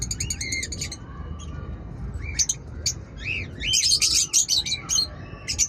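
Birds chirp and tweet in rapid bursts of high notes, fairly close, with a busier flurry of calls near the end and no talking.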